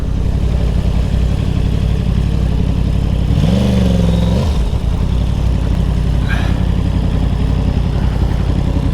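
A Yamaha R1 sport motorcycle pulls up in a Houston lot, its loud mid-pitched engine idling steadily, then revving briefly in a rising and falling burst before settling back to idle.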